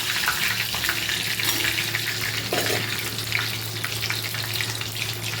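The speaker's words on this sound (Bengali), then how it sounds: "ফোড়নের জন্য দিলাম মেরে নেড়ে" Whole cardamom pods and bay leaves crackle and fry in hot oil with a dense, continuous sizzle, stirred with occasional light scrapes, close up and loud, with no speech.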